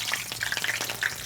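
Potato sausages sizzle and crackle steadily in hot oil in a pan, a close, continuous frying hiss with small pops and no talking.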